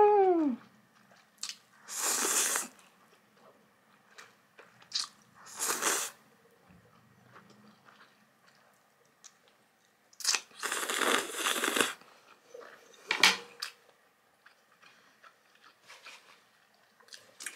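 Biting and chewing on nuclear fire noodles and kimchi cheesy rice balls, with several separate bursts of crunchy, wet chewing close to the microphone, spaced by quiet pauses.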